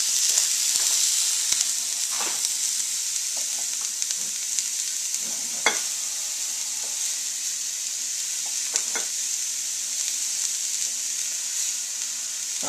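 Vegetables sizzle in a roux for shrimp étouffée, a loud, steady frying hiss that runs throughout, with occasional stirring scrapes and clicks of the spoon in the pot.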